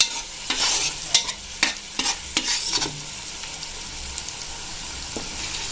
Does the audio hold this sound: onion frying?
yes